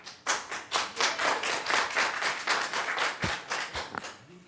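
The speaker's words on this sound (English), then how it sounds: "We don't need clapping." A few people clapping at a public community meeting, the claps sparse and uneven at first, then thickening into a ragged burst of close applause before tapering off, with no talking.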